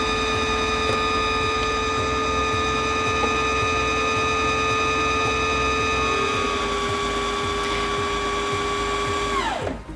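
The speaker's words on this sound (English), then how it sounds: "Step on the foot control to resume winding" A Singer Featherweight C240 sewing machine winds a bobbin with a steady, close electric motor whine and hum for about nine seconds, then quickly spins down and stops.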